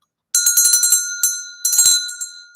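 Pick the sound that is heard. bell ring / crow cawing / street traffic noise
bell ring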